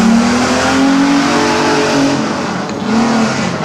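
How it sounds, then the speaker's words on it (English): Subaru WRX race car rounding the hairpin at a hillclimb, its engine loud and close, revving and shifting pitch as it drives through the bend, with a hint of tyre squeal. "making his way around the hairpin in his Subaru WRX"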